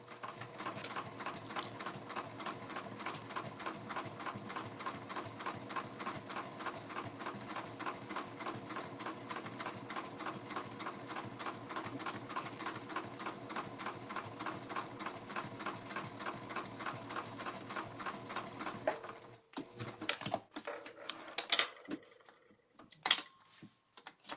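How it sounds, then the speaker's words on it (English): A Juki TL18 sewing machine runs at a steady fast clip, its needle hammering in an even rapid rhythm close by for about nineteen seconds, then stopping and giving way to a few scattered handling clicks and rustles. "And I am sewing on a Juki TL18."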